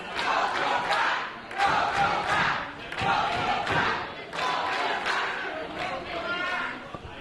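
A standing-room-only wrestling crowd at the FLCC for Barrie Wrestling's BW 100 event cheers and roars in repeated loud surges, swelling and dipping every second or so, dense and close, with scattered shouts inside the din.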